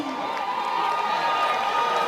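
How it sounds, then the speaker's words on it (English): Football crowd at a semi-professional league match in Saint Lucia cheering and applauding for the National Under 20 team, a loud, sustained roar of voices and clapping with shouts over a steady wash of noise. "A round of applause for the National Under 20 team"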